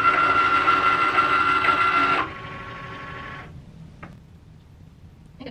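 A Cricut Maker cutting machine runs a cut, its motor whirring steadily and close for a couple of seconds, then dropping to a softer hum before going quiet with a faint click.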